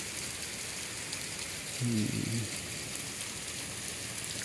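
Heavy rain pours steadily in Punjab, a dense hiss that fills the whole stretch, with a brief low rumble or murmur rising under it around the middle before the downpour carries on alone.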